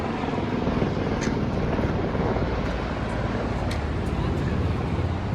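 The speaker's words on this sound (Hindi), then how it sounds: "और अब हमारे साथ चल रही है, ये देखिए आप, हेलीकॉप्टर।" A helicopter flies near the mountains along the Hemkund Sahib pilgrimage route, a steady broadband rotor-and-wind roar that fills the whole stretch without pause, with faint voices blended into it.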